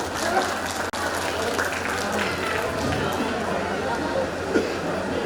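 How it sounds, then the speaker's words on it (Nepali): An audience claps at a Nepali cultural festival in Sonipat, Haryana, with steady, fairly loud applause mixed with crowd chatter and background voices for the whole stretch. "ताली लगाइदिनुहोस् एकपल्ट जोरदार ताली"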